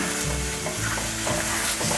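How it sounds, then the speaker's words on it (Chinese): Steady, loud sizzle of king oyster mushrooms, browned on both sides, stir-frying in a pan, with scraping and stirring strokes of a spatula throughout. "两面都煎成焦黄色了，我会再持续的翻炒一下"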